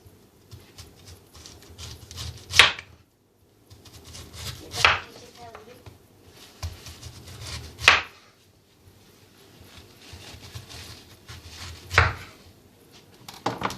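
Fresh pineapple sliced with a knife on a board at home, four sharp separate chops spaced a few seconds apart over quiet room noise, with a faint voice in the background.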